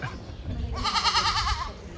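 Goats bleating during a goat yoga session, a clear wavering bleat rising from about the middle of the moment and holding for nearly a second over low background rumble.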